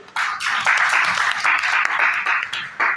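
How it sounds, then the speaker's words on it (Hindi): Applause fills a university hall during a speech competition, with dense, loud clapping from an audience that goes on for about three seconds. "ताली बजाइए।"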